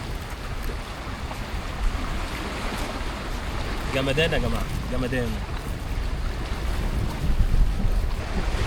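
Sea waves wash onto the shore at El Max with steady surf and gusting wind noise throughout, while people talk over it.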